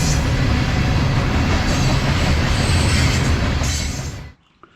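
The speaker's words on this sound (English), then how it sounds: "Looks like it's the coal train." A coal train rumbles past close by with a steady, heavy roar of wheels on rails, then the noise cuts off abruptly near the end.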